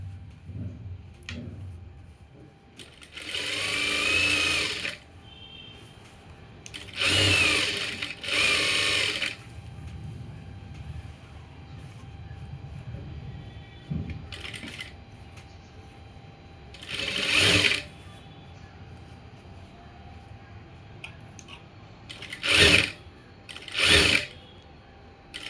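An electric sewing machine stitching an umbrella frock runs in several short and longer bursts of fast whirring with quiet gaps between them, close and clear.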